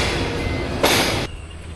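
Udayan Express passenger train rolling slowly along the line, a loud continuous rumble with a short burst of brighter rushing noise that cuts off abruptly, heard from inside.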